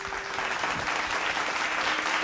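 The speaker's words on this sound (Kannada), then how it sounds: "ಸೊ ಮ್ಯೂಸಿಷಿಯನ್ಸ್ಗೂ ಒಂದು ಚಪ್ಪಾಳೆ ಬರಬೇಕು." An audience at a televised music show applauds the musicians with steady, dense clapping that continues evenly throughout, loud and close, without speech.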